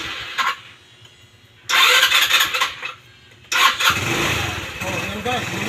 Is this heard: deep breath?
no